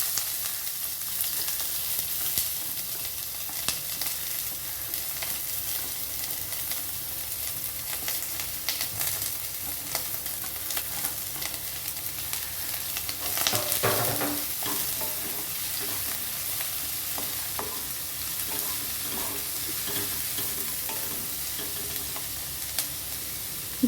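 Chopped onions fry in oil in a pan with cardamom and cloves, a continuous close sizzle with stirring scrapes that briefly swells louder midway, no talking.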